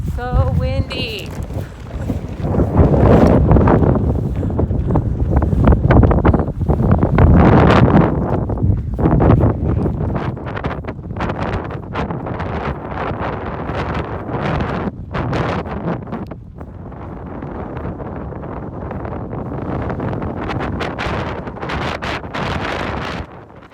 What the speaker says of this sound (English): So windy.